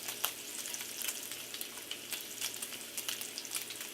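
Bacon frying in a pan, a steady crackling sizzle with scattered sharp pops, moderately close and fairly quiet, with no voices over it.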